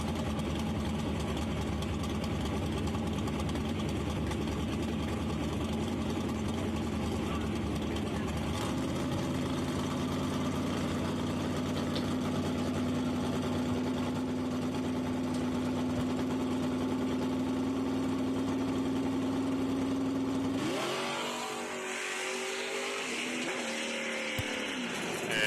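A 1969 Chevrolet Camaro drag car idles at Shadyside Dragway, a loud, steady, close mechanical rumble that holds evenly for about twenty seconds before the engine note shifts and drops near the end.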